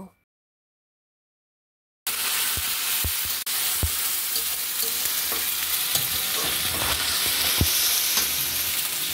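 Ginger garlic paste frying in hot oil in a pan for a mutton offal curry, a loud continuous sizzle with sharp spoon clacks and stirring, following two seconds of silence.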